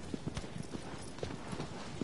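Horse hooves clip-clop steadily in the video game Shadow of the Colossus, a regular galloping rhythm of soft thuds over a constant wash of wind and background game ambience.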